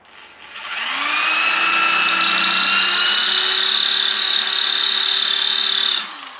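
A power drill with a blunt bit runs steadily for about five seconds, a loud high whine that spins up, holds, and winds down, with no talking.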